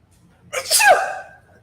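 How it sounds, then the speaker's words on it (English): A single sharp sneeze bursts out after a brief quiet moment, loud and close, with a rising breathy onset. "oh my gosh, I gotta sneeze"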